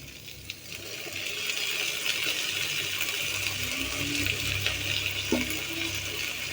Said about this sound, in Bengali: পানি দিয়ে দিই।